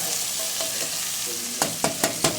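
Seared chicken and mixed vegetables sizzle steadily in a pot, close and loud, while a utensil scrapes and stirs through them in several quick strokes near the end.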